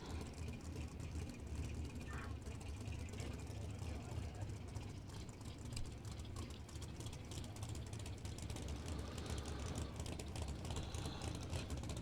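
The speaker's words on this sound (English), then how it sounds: "Let's listen to that thing idling." A drag racing car engine at an NHRA event idles with a rough, loping rumble, steady and fairly distant, mixed with broad background noise.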